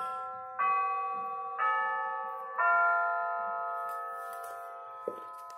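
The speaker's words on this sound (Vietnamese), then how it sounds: "Để cho xong chuông đồng hồ này anh em nhé" A clock chimes three rising, ringing bell tones in a clear sequence, each note sustaining and decaying into the next, followed by a faint tap; quiet room, no talking.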